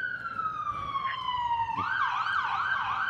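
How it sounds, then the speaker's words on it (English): An ambulance siren passes by at a distance, its steady falling tone switching to a rapid wailing yelp, faint behind low background room noise. "There's an ambulance going by."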